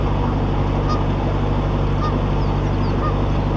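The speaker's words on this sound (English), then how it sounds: "Another goose kicking off anyway." A goose honks a few times by the canal at Rishton, the calls faint and partly buried under a loud, constant rushing noise.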